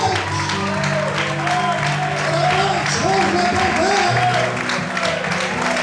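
A church congregation at an evening Brazilian service claps and praises, dense sustained applause with crowd voices and musical tones underneath, loud and close throughout.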